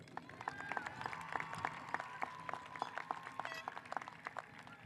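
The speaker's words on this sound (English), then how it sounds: "can we please get a round of applause for every single student sitting on this field today?" Scattered clapping from a distant outdoor high school graduation crowd on a field, a patter of individual claps over a murmuring background.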